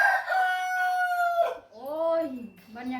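A rooster crows with long, loud sustained calls in the opening second and a half, then chickens give softer, broken clucking calls near at hand, with no talk over them.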